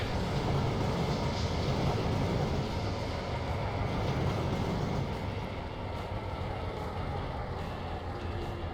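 Train climbing a newly built stretch of track on a model railroad, giving a steady, dense rumbling roar with no clear pauses, fairly loud and alone.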